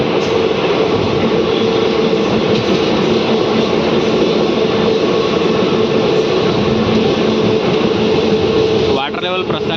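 Raichur–Guntakal DEMU passenger train running near Andhra Pradesh, a loud continuous onboard rumble and rattle with steady wheel noise throughout.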